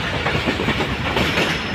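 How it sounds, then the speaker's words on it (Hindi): Shah Latif Express passenger train wheels running over railway track between Karachi Cantt and Drigh Road, a steady loud rumble with rhythmic clickety-clack from rail joints, heard alone from inside the moving train. "आपको एक बार ट्रैक साउंड की आवाज़ फिर चेक करवा देते हैं। बड़ी ज़बरदस्त ट्रैक साउंड है।"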